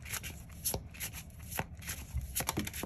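Green Witch Oracle cards are shuffled close to the listener, making a quick run of crisp, papery riffles and flicks with several sharper snaps among them.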